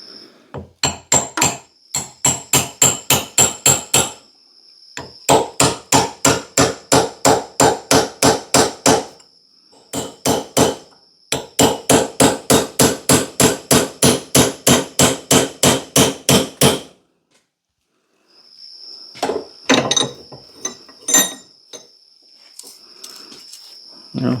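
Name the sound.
hammering a bolt to drive off a double bit axe head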